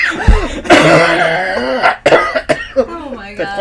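A person coughs a few times amid chatty conversation, the short harsh bursts breaking up steady talk between people nearby.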